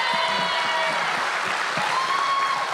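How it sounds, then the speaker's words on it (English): Applause for basketball player Devontae Graham on a podcast, a short, even wash of clapping that runs at a steady level throughout, with faint tonal sounds mixed in underneath. "you can clap it up for my guy Tay."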